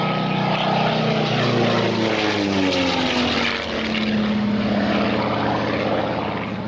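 Fairey Firefly propeller aircraft in a flying display at Yeovilton Air Day 1996, a loud continuous piston-engine drone whose pitch sweeps downward as it passes, steady and close throughout.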